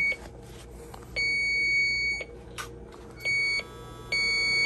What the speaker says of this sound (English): Let her breathe. Let the leak detector breathe.